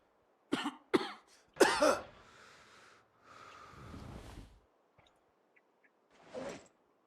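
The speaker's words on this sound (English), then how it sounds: "The cough concerns me a little bit" A game character coughs in a zombie apocalypse survival game, giving several sharp, loud coughs in quick succession, then a longer rasping breath and a fainter cough-like sound after a pause, with no talk.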